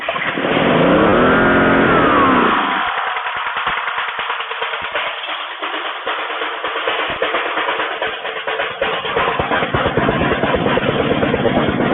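A rebuilt Honda GCV 160 small engine fires up with a loud, rising rev in the first couple of seconds, then settles into a steady, buzzing run close by, with no talking.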